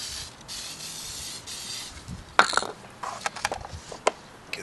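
Spray adhesive hisses from an aerosol can onto a Woodland Scenics tree armature for HO scale model scenery, a close steady spray in bursts followed by a few small clicks and handling taps.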